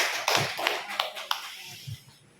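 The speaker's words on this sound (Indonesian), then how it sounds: "Tepuk tangan dulu untuk Bapak Suenda." A small audience at an education session claps briefly, a few quick, close hand claps over roughly two seconds with a short voice mixed in.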